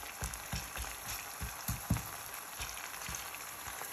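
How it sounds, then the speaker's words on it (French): Tomatoes, onions and peppers cook in a pan for an ojja with merguez, giving a low steady sizzle broken by irregular soft pops and crackles, fairly quiet and without talk. "On laisse cuire les tomates."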